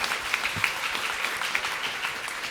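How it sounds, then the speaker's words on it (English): An audience at the NISS 2023 Gold Medal Gala applauds in a big hall, with steady, dense clapping that holds at full strength throughout. "Let's give them one more round of applause"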